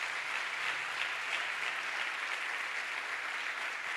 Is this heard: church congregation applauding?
yes